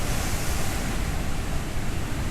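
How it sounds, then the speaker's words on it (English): Heavy surf pounding a rocky point, a dense, continuous roar of breaking ocean waves with wind buffeting the microphone, loud and unbroken for a couple of seconds, no voices. "I just saw a big wave come through and wet all those people down there on the point"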